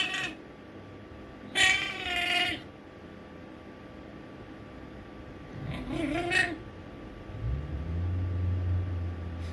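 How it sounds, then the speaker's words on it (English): A pet cat with a distinctive voice lets out a couple of short, strained meows near the microphone, spaced apart over a low steady background hum, with a deeper drawn-out sound at the end. "He's got such a unique meow"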